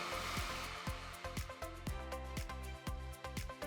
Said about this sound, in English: grab your heat gun and apply heat evenly around the tubing